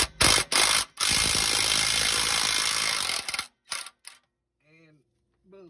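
A cordless impact wrench hammers at 14 mm exhaust bolts on a 2004 Toyota Sienna with 188k miles, with several short loud bursts and then one sustained rattling run of about two and a half seconds, followed by a few brief clanks and near silence.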